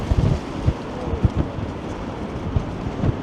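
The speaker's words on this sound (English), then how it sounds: "as I walk right into a pretty nasty wind" Strong gusting wind buffets the microphone while walking through downtown Toronto's Financial District, a steady low roar with repeated thumping bursts and no voices.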